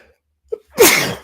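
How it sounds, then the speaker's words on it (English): A quick intake of breath followed by a single loud, close sneeze. "I had to sneeze."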